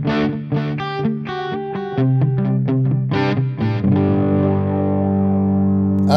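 Distorted electric guitar through a Flamma FX20 headphone amp with a delay effect plays a string of short notes and chords, each trailed by repeating echoes, ending on a long ringing sustained chord.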